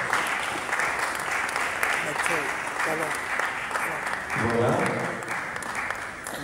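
A church congregation applauds in a steady, dense patter during a tribute service for a mother, with voices speaking over the clapping throughout.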